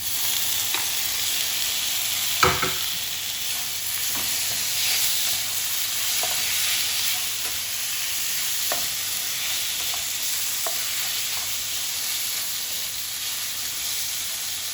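Tomatoes added to a pan with ginger for Filipino kinamatisang manok sizzle and fry steadily throughout, a continuous close hiss broken by a few sharp crackles and one louder clatter.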